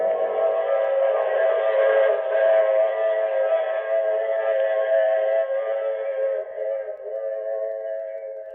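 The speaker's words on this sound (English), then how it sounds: "I take this same train every week at this same time." A long, steady train whistle, used as a radio-drama sound effect, holds a bright, multi-toned chord for about eight seconds and fades slightly at the end.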